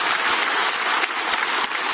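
A church congregation applauds the choir during a Korean worship service, with dense, continuous clapping that stays loud and even throughout, and no voices on top.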